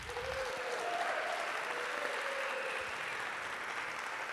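An audience claps steadily and fairly loudly at a school award ceremony, a dense, continuous round of applause that holds at an even level without pause.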